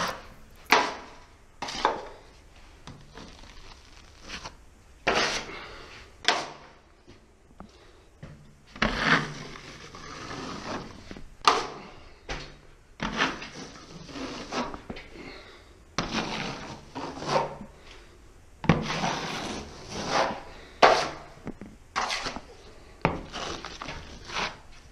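A drywall trowel scrapes and spreads joint compound across a ceiling during a skim coat, giving repeated close rasping strokes in irregular bursts, with occasional taps against a mud pan.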